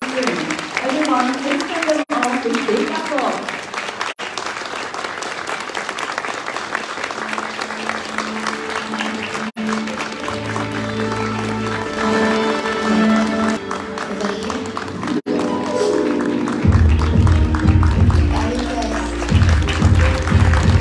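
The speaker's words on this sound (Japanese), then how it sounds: "どうぞ大きな拍手でお送りください。" Large audience gives big, sustained applause as Miss International 2022 contestants leave the stage at an event in Niigata, with music swelling in toward the end.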